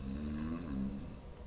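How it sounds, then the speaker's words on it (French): One steady, rasping snore rumbles close and fairly loud during a tabletop roleplaying game session, with no other sound. "tu ronfles"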